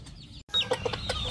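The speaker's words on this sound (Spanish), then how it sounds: "Una gallina negra." A black hen clucks in a farmyard, giving a few short close calls in quick succession after a brief gap.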